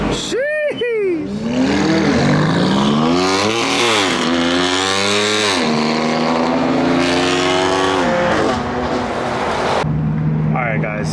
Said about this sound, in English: Bro, these guys' cars sound like gunshots